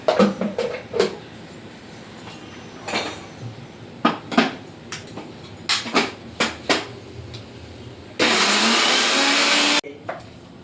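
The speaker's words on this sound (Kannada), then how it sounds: "ಈಗ ಇದನ್ನೆಲ್ಲ ಮಿಕ್ಸಿಗೆ ಹಾಕಿದ್ದೇನೆ, ಇದನ್ನು ತಿರುಗುತ್ತೇನೆ." A kitchen mixer grinder blitzes a bitter gourd masala in a loud, steady whir of about a second and a half near the end, preceded by scattered clicks and knocks as the jar is handled.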